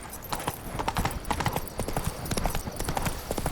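Horse hooves in The Witcher 3 video game, Roach galloping with rapid rhythmic clip-clop beats, close and continuous over a steady background.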